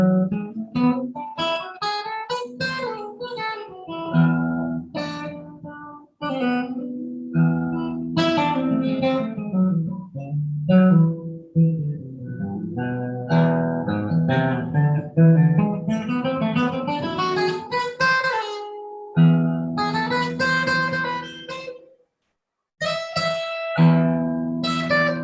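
A melodic instrumental riff built on the notes of raga Charukeshi, single sustained tones gliding and stepping through the scale with short pauses, clear and close, played alone without talk.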